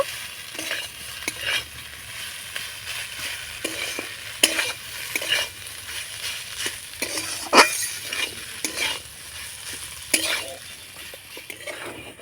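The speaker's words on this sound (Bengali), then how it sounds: "এবার নাড়াচাড়া করে আলুর সঙ্গে মশলাটা ভালো করে কষিয়ে নেব" Diced potatoes fry with chilli powder and cumin in a pan under a soft sizzle, while a spoon stirs and scrapes in irregular close clinks and swishes.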